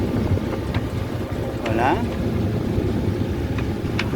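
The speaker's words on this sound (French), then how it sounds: "Je croise une goélette qui, comme moi, est au moteur." A sailboat motors at sea under engine. The engine drones steadily under wind noise, with a brief passing whoosh, and someone speaks a word.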